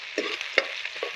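Tomato dropped into hot oil for a meat curry gives a steady, bright sizzle with a sharp crackle as it lands, then soft stirring scrapes; close and fairly loud, no voices.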